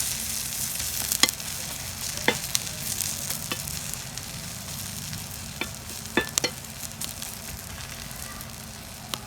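A drumstick leaf onion podi dosa sizzles and fries on a hot pan, a soft steady hiss with scattered sharp crackles and a few ticks, fairly quiet and with no talking.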